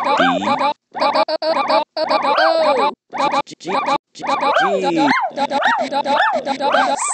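Dogs bark and yip in choppy, rhythmic bursts edited into a musical pattern, loud and close, with pitched barks repeating in quick succession and short silences between phrases.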